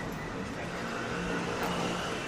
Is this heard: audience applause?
no